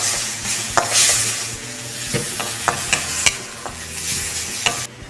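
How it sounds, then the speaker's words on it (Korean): Onion, carrot and wood ear mushroom stir-fried with rice wine and soy sauce in a wok for sweet and sour pork, giving a steady sizzle with sharp spatula scrapes and clinks against the pan, close and alone. "양파, 당근, 목이버섯을 넣고 볶아주세요."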